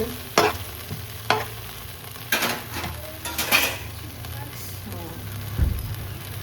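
Potatoes are stir-fried with chili flakes in a pan, with a faint sizzle under scattered scrapes and clinks of a spoon against the pan, several sharp knocks standing out.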